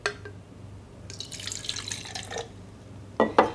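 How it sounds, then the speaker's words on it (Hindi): A little water poured into an empty drink can, a short trickle and splash that runs for a couple of seconds, followed by two sharp metallic clinks at the end. "कैन में थोड़ा पानी डाल लेंगे"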